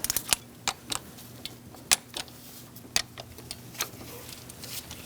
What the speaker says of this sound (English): We're just going to torque them to 89 inch-pounds.